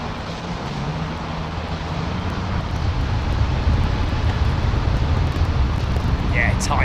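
Airliner flying near London Heathrow, a loud, steady engine roar with deep rumble and wind buffeting on the microphone, holding close throughout.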